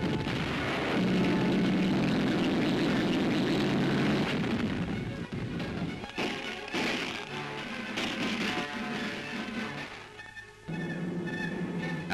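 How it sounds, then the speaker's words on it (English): Scattered muffled bangs and thuds of far-off gunfire in 1944 Paris echo over a rumbling background, irregular and distant rather than sharp. "There's still some shooting going on down there"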